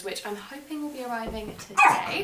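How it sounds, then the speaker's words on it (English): A pet dog barks a few times in the background of a house, the barks under and between steady nearby talk, then louder toward the end. "Excuse my dog barking in the background."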